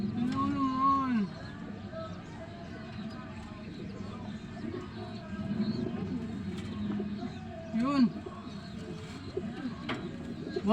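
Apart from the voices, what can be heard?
racing pigeons cooing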